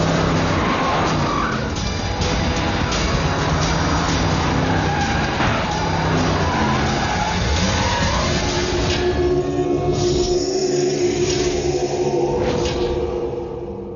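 Vehicle speeding with tires skidding in a Telugu film action scene: a dense, loud roar of engine and squealing rubber runs steadily throughout, with a heavier rumbling push near the end, and no speech.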